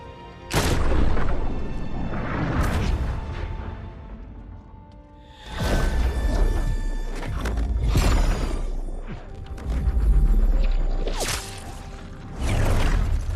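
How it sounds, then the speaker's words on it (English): Heavy army gunfire erupts in Final Fantasy 7 Rebirth, loud booming bursts and whooshing blasts arriving in several waves with brief lulls between, close and dominant. "Whole freaking army unloading on my position. I'm feeling every single bullet."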